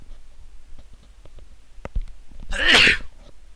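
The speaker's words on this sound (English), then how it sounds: "Oh, sneeze." A single loud, close sneeze bursts out alone, preceded by a few faint clicks and taps in a quiet room during a Dota game broadcast.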